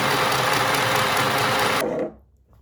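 A mini sewing machine stitches the seam of a fabric scrunchie, its needle motor buzzing in a fast steady whir for about two seconds before it stops and a faint low hum trails off.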